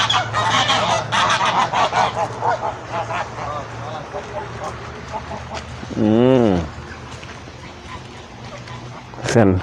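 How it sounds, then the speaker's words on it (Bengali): Ducks on a farm in Dubai call out at feeding time as bread is handed out, with a run of rapid, nasal honking calls and one loud, drawn-out squawk standing out near the end against steady background noise. "খাবারের জন্য কি হবে হাঁস আসতেছে দেখেন"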